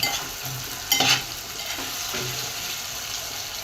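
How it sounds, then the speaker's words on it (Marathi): Whole spices, star anise, cloves and black peppercorns, sautéing in a pot for Marwadi-style khichdi: a soft continuous sizzle with a couple of brief stirring scrapes near the start, close and quiet, no voices. "चक्रीफूल लवंग आणि मिरे हे यात टाकून देऊ आता आणि हे पण परतून घेऊ"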